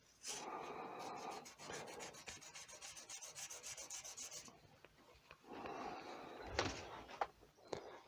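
Fine 320-grit sandpaper rubs back and forth in quick, steady strokes on a wooden pen blank on a lathe, pausing briefly between two bursts of sanding, with a few small knocks near the end.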